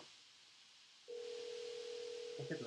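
A telephone rings out steadily on a call, one long unbroken tone that starts partway in and holds to the end, fairly clear over faint background hiss.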